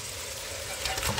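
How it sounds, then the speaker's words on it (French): Oxtail meat and white cabbage stirred together in a frying pan make a soft sizzle with a brief scraping swell near the end, quiet and close, with no voices. "Maintenant, je vais mélanger la viande"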